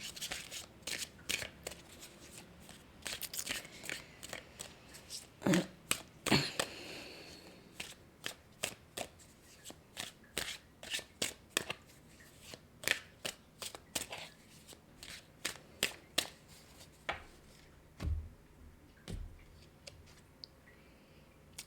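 A deck of oracle cards being handled and shuffled up close, with a long run of crisp riffling snaps, flicks and taps in uneven bursts and no voices.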